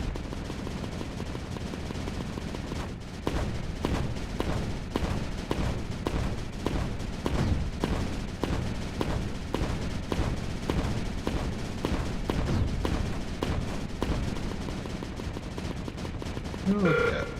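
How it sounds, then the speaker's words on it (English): Repeated booming mortar impacts and launches in the World War II shooter Hell Let Loose, a dense run of heavy thumps rolling on steadily for the whole stretch, moderately loud with a busy battlefield bed underneath. "Let's drop a little bit more mortar back there."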